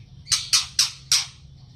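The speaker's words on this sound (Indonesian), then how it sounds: "Ini Mas Kuswari burungnya ya" A white-rumped shama (murai batu) gives four sharp, loud squawks in an even rhythm, each a short harsh burst, close to the listener over a low steady background hum.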